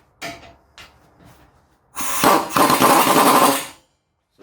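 Impact gun zapping bolts tight on Porsche Cayenne brakes: two short bursts near the start, then a longer loud rattling burst of almost two seconds, close and sharp with no speech.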